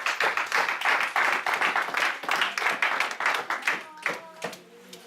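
A church congregation claps to acclaim the Lord, with loud, fast, irregular clapping from many hands that thins out toward the end, and voices mixed in.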